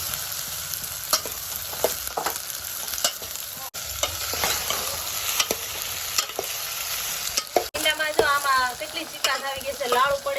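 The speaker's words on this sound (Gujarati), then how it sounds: "તો આપણે તેલમાં નાખી દઈએ ભીંડાને પહેલાં હવે થોડીક ગળવા દેવાનું આમ મલાવીને તેલમાં ગળવા દેવાનું" Farm-grown okra sizzles and fries in hot oil in a pan while being stirred, a steady loud crackle with repeated scraping stir strokes and a brighter burst of popping near the end.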